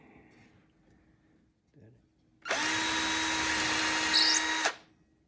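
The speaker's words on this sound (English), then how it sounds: "For this one, I'm going to drill pilot hole there." Power drill boring a 1/8-inch pilot hole into a wooden Adirondack chair during assembly: after faint background sounds, a loud, steady high-pitched whir runs for about two seconds, then stops.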